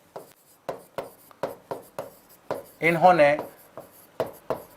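Chalk or marker strikes a classroom board in quick, regular taps and short strokes, with a brief spoken phrase partway through and more strokes after it.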